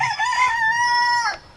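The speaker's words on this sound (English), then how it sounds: "and some roosters." Rooster crows once, loud and close, a long drawn-out cock-a-doodle-doo that trails off with no talking.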